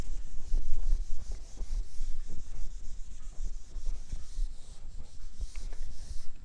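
A pen or chalk writing by hand while working through complex-number algebra, with continuous scratchy strokes in irregular bursts, close and fairly loud, and no talking.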